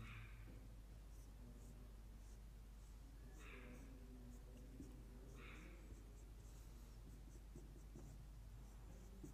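Marker or chalk scratching on a classroom board during a chemistry lesson, several short bursts of writing strokes spread across a quiet, steady background hum.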